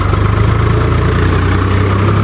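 A modified tractor engine idles at a steady, low, throbbing rumble, loud and close, with no talking.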